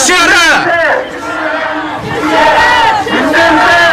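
A large protest crowd outside the Supreme Prosecutors' Office in Seoul chants slogans in unison, loud and close, in rhythmic bursts of many voices shouting together that rise and fall over a few seconds.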